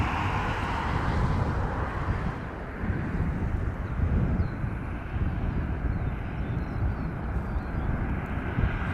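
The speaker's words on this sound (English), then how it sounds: "you can't beat a jumbo jet" Jumbo jet aircraft engines roaring in a continuous, loud low rumble that swells slightly and holds steady, like a large airliner passing or taxiing nearby.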